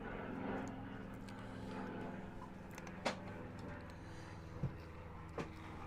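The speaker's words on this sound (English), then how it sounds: "Plane's low." A low-flying airplane passes overhead as a steady, distant droning hum, while a few sharp small clicks from nearby workbench handling cut through.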